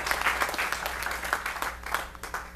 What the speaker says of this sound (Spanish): Si le quiere dar un aplauso a Cristo, qué bueno.